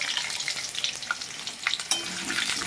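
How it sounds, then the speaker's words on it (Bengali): Potato pieces fry in hot oil for a jackfruit dalna, giving a close, crackling sizzle with light stirring clicks throughout and no talk. "আলুগুলো একটু লাল লাল করে ভেজে নেব।"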